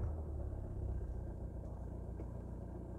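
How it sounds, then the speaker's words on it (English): A car engine idles just after starting, a low steady rumble that holds evenly throughout, close by with no voices. "At some cars you might have to turn on the engine, so let me do that on my car to start with."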